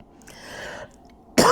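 A person coughs: a soft rough throat sound, then after a pause a sudden loud harsh cough close by.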